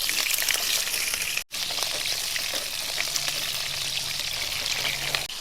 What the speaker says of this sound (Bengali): এবার আমি তেলে পটলগুলো ভেজে নেব।